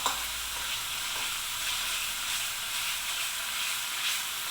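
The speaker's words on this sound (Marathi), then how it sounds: "आणखीन 1-2 मिनटं आपण मसाला असं शिजवून घ्यायचा आहे." Spiced masala paste fries in oil for a chickpea curry, a dense, even sizzle with steady stirring scrapes, close and constant throughout.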